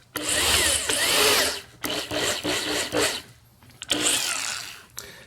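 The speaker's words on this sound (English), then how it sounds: "is I switch to my largest drill bit" A power drill fitted with a large bit countersinks screw holes from the underside of a homemade core holder, loud grinding bursts in three main runs separated by brief pauses.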